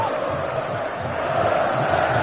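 Santos football fans in the stadium at the 2007 Paulista final against São Caetano keep up a dense, steady roar of chanting and cheering, loud and continuous throughout.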